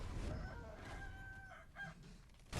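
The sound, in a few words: chicken clucking in the video game Sekiro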